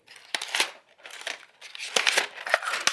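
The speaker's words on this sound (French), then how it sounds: "le bruit du papier qui se déchire, c'est assez particulier" Close, crisp crinkling and tearing of paper in short irregular bursts, with brief pauses between the rips.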